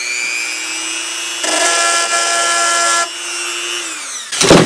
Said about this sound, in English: I chose the copper bale, and I'm going to rough this up a little bit with my little Dremel.